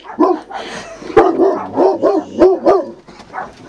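A puppy barks repeatedly, close and loud, in a quick series of yips and bow-wows with short whimpering tones between them.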